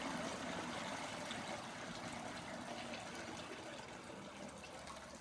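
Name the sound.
beer steeping liquid poured through a filter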